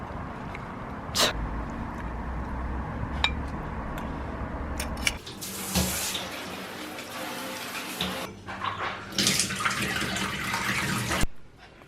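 Shower water runs in bursts at home, a broad hiss of spray that starts and stops several times, loud and close, with clinks and brief sounds between.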